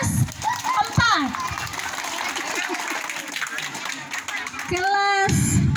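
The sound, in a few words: classroom children clapping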